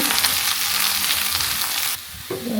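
Potato pieces fry in a pan for a home-style Bengali cauliflower dish, giving a loud, close, steady sizzle with stirring that drops away sharply near the end, no voices.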